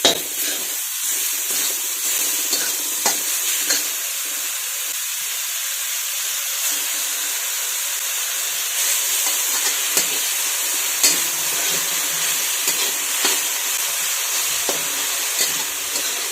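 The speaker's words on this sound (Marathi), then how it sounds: "मिरची छान परतून झालेली आहे. याच्यामध्ये आपण कोथिंबीर टाकून घेऊयात." Coriander leaves and green chillies stir-frying in a pan, a steady broad sizzle and hiss throughout with occasional soft scrapes and clicks of stirring, fairly close and continuous.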